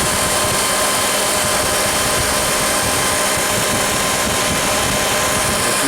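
A Honda engine idles steadily with its radiator cooling fan running, a continuous broadband whir and hum that stays even throughout with no voices.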